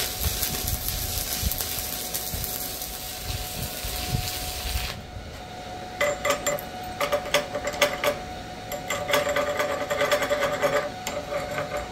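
An Arccaptain MIG145 Pro flux core MIG welder welds at 105 amps, giving steady crackling buzz first, then a break and bursts of sputtering, crackling arc noise, fairly quiet and close.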